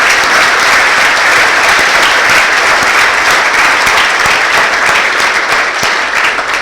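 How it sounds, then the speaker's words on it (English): Steady, loud audience applause at a breakfast speaker event fills the whole stretch, a dense wash of many hands clapping at once, with no voices rising above it. "I want you all to give a round of applause for yourselves"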